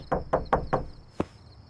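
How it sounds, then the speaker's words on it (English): Four quick, evenly spaced knocks on a door, then a short pause and one final knock, close and clear in a quiet room. "Halfway through, Zach knocked."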